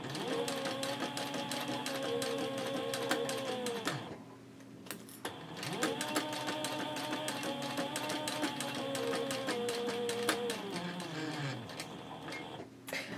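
A sewing machine runs in two long, steady stitching bursts along a line of stitching on a handbag gusset, separated by a brief pause, close and fairly quiet with no talking.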